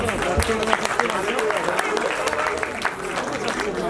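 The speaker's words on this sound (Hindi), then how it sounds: "आपके लिए तालियां बजा दो यार।" Applause from the audience at a stage tribute show for Lata Mangeshkar's 93rd birthday, dense and steady clapping through the whole stretch with voices mixed in.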